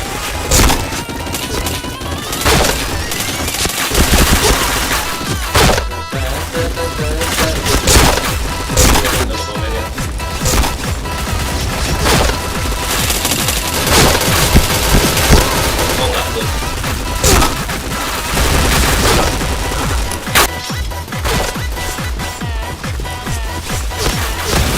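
Loud, dense gunfire from a shooter video game fires in rapid bursts and sustained volleys, with crashing impacts, almost without pause throughout.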